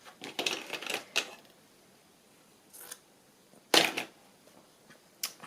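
Scissors snip through paper or fabric while a concertina bookmark is being trimmed: a quick cluster of crisp cuts at the start, then isolated louder snips later, close and clear with quiet pauses between.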